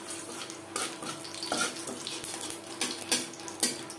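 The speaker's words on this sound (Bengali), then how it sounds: "10-15 সেকেন্ড কালো জিরে ভেজে নেওয়ার পর দিয়ে দেবো 3-4টে টমেটো।" Half a spoon of black cumin (nigella) seeds fry in oil in a wok previously used for frying fish. A soft steady sizzle runs underneath, broken by irregular scraping and clinking from stirring, with no talking.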